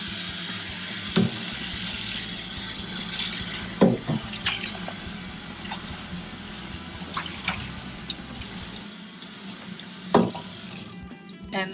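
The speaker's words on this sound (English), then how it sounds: "Rinse with cold water." Cold tap water runs steadily into a sink, rinsing out a cat's plastic litter box, with a continuous splashing hiss and a few sharp knocks and clatters of the box against the basin.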